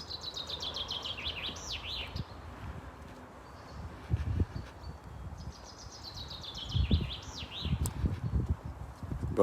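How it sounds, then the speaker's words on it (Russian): Birds chirp and warble in a forest, bright trilling phrases coming in two bursts over a steady outdoor background with occasional low thumps and rustles, fairly distant and moderately faint. "Послушайте, птички играют."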